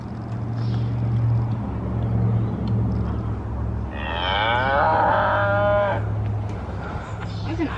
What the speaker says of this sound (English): This is cows mooing.